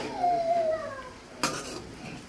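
Fried rice is stirred in a pan after pepper powder goes in, with soft scraping and a sharp metallic clank of utensil against the pan partway through.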